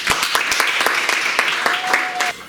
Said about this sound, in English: A great applause for her.